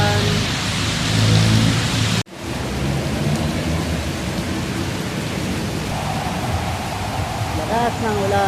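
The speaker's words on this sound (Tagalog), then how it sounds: "Ang lakas-lakas na naman ang ulan. Sobrang lakas na naman ang ulan." Heavy rain roars steadily as a dense, loud wash with a brief dropout partway through. Faint voices may sit under it.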